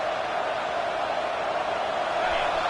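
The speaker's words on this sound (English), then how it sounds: "this crowd coming to life here, trying to help the defense get a stop with the offense pinned back" A football stadium crowd roars in a dense, continuous wash of cheering that holds steady and loud throughout, with no distinct voices standing out.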